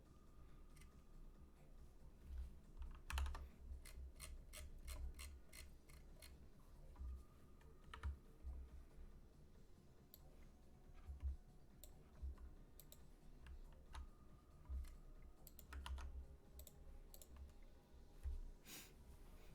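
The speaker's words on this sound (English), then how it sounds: "Why don't you try typing this function is the inverse of this function here" Typing on a computer keyboard, with irregular bursts of crisp key clicks and occasional louder taps spread over about twenty seconds, quiet and close, with no voices.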